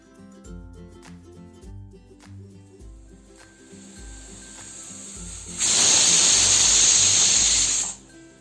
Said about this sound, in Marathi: आता आपण कुकरला झाकण लावूया आणि साधारणतः दोन ते तीन शिट्ट्या करून घेऊयात